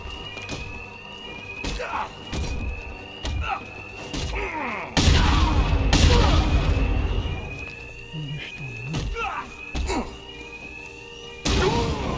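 Alarms ring through a Batman: Arkham Knight game scene, a steady electronic tone repeating under frequent thumps and impacts of fighting, with voices speaking over the din.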